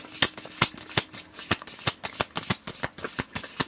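Affirmation cards shuffled by hand in a steady run of crisp riffling bursts, about a dozen sharp flicks close up with no voice.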